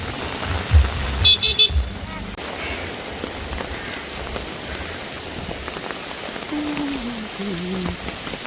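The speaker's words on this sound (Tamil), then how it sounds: "இன்றைக்கு சரியான மழை." Heavy rain pouring onto a street in Jaffna, a steady close hiss throughout, with a car horn tooting briefly near the start and faint traffic rumble beneath.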